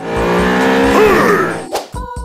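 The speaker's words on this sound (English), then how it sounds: "I'll start by stealing this cop car." A stolen police car in the Roblox video game revs its engine with a rising tonal whine and tire squeal, then cuts off abruptly with a brief clunk, loud and up close.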